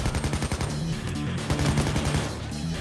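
Machine gun fire in a Payday 2 heist shootout: rapid, loud, continuous bursts of automatic shots close by, densely packed with a brief lull midway, no talking over it.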